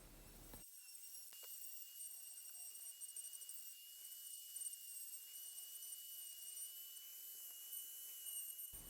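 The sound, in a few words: power carving with a taper burr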